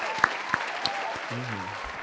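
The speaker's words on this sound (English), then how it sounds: "I'm going to give you a round of applause" A round of applause from a studio audience, thin and fairly faint, with scattered louder claps standing out over a steady low background and a brief low hum near the end.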